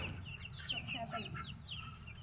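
Chickens cluck and chirp softly in a rooftop yard, faint and somewhat distant, over a low background with a voice speaking.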